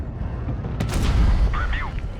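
A tank cannon fires once in World of Tanks Blitz from the Object 777 II heavy tank, a single heavy boom with a low rumbling tail over a steady engine drone, and a voice briefly heard.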